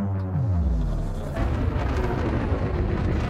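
Spaceship boost in Elite Dangerous: a rising engine whine sweeps upward, then a loud, broad roaring rush takes over and holds steady.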